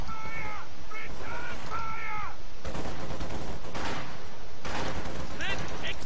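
Battle sounds from the Company of Heroes 2 real-time strategy game, with bursts of gunfire and explosive impacts mixed among shouted unit voice lines and bird-like caws, loud and busy across the whole stretch.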